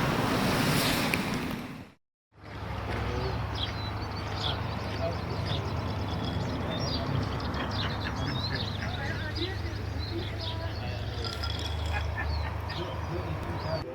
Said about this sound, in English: this is really still fucking windy out there. Like really windy.